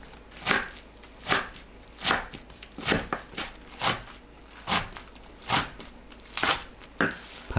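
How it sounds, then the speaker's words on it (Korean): A knife chops garlic chives into 2 cm lengths on a cutting board, giving about a dozen crisp, evenly spaced thuds with soft crunching between strikes. "뭉친 부추 대충 풀고 2cm 간격으로 썰어주세요."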